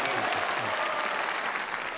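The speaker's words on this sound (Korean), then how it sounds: "다시 한번 큰 박수 부탁드리겠습니다" Steady, dense applause from a concert audience at a live Korean music performance, filling the whole moment at an even level without pause.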